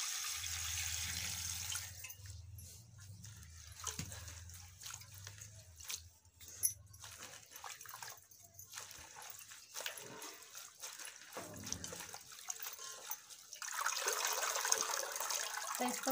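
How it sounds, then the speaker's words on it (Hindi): Bathua greens are rinsed in a kitchen vessel as water pours in and splashes, with steady trickling, dripping and swishing sounds and a brief low hum early on; no one speaks. "इसमें पानी डाल लेती हूँ मैं।"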